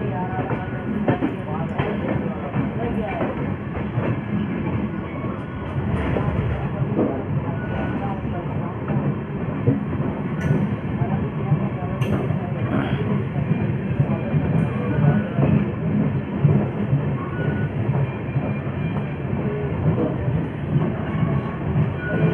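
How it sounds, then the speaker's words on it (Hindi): The Avadh Assam Express passenger train rolls along the rails between Bareilly and Delhi in a continuous rumble with rhythmic clickety-clack from the wheels, heard from inside the coach with faint talk now and then. "देखते हैं आगे कैसे ट्रेन ट्रेवल करेगी।"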